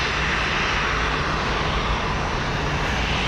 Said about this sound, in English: A little rough landing.